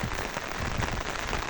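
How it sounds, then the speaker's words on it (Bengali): Heavy rain pours down outdoors around someone out under an umbrella, making a dense, continuous close-up hiss of drops with no breaks and no voices. "ছাতা নিয়ে বের হয়েছে একটু, তাই দেখতেছি প্রচণ্ড বৃষ্টি।"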